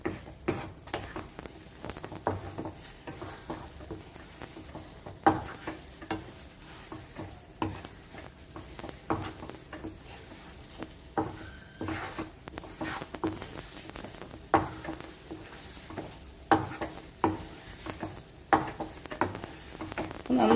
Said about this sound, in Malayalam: ഇപ്പം നമുക്കൊന്ന് ഹൈ ഫ്ലെയിമിൽ വെച്ച് കൊടുക്കാം.